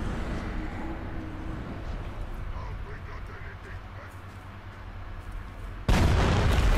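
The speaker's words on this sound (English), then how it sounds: "Something just blew up." A sudden, loud explosion erupts in the video game Middle-earth: Shadow of War. It breaks in near the end over a steady rumbling game backdrop and stays loud to the close.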